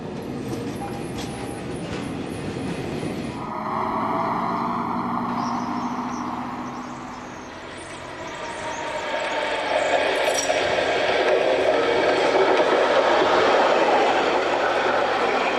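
An East German tram motor car manoeuvres at a terminus, a steady rail rumble with clattering wheel noise that swells and fades, plus a brief squealing tone early on, with no voices.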